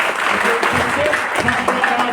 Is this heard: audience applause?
yes